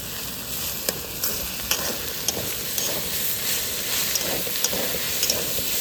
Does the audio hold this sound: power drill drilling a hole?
no